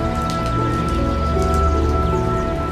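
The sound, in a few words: heavy rain falling outside the house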